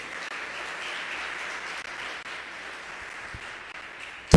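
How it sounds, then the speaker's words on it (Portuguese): Applause from a church congregation, a steady, fairly soft and distant clatter of many hands that holds evenly through the moment, ending in a sudden louder knock. "Vamos aplaudir ao Senhor por isso?"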